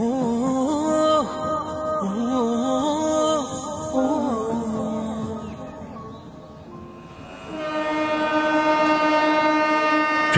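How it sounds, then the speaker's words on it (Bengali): A train sounds its horn in long sustained tones, with a brief pause, then a second horn blast over the rumble of the moving train. "ট্রেন বাঁশি বাজিয়ে রওনা দিল নিজের গন্তব্যের উদ্দেশ্যে"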